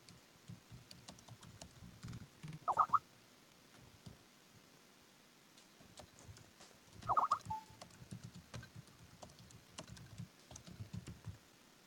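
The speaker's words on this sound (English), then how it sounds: "I hear a lot of typing." Typing on a computer keyboard during a live stream, heard as faint, scattered clicks over low background noise, with two brief louder bursts.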